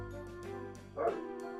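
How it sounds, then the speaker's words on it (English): A dog barks and yips in muffled, short bursts from another room, about four quick barks with a louder one near the end. "I can hear my dog barking."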